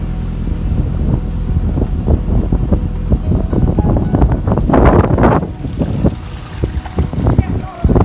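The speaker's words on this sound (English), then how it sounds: "It's a bit windy." Gusty wind buffets the microphone aboard a narrowboat, a steady low roar swelling and easing through the whole stretch, with brief voices mixed in.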